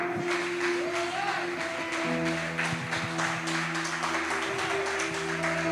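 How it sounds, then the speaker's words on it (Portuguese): A church congregation applauds during a service. The clapping is continuous and broad, with sustained instrumental tones held underneath and a little voice mixed in. "Mais uma vez, aplauda o Senhor, por favor"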